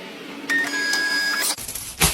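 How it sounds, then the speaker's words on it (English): A smart printer printing homework: a short electronic beep tone followed by a brief whirring feed and a sharp mechanical clack near the end, close and clear. "好的，正在为您打印。"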